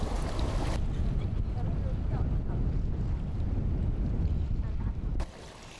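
A motorboat runs across a lake near Wuxi, its engine rumbling steadily under heavy wind buffeting. The roar holds loud throughout, then drops sharply near the end.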